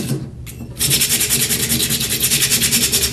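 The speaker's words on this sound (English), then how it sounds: "So I'm going to take off a little bit of the paint all the way around. I'm just going to sand it a little." Sandpaper rubs paint off a painted wooden craft piece in steady, close back-and-forth strokes, starting after a brief quieter pause and then continuing loud and rhythmic.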